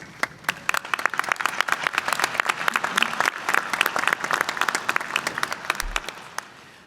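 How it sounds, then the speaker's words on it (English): Applause at a commencement ceremony: a moderate crowd claps with individual sharp hand claps standing out, building briefly and then thinning and fading toward the end. "Let's give another round of applause."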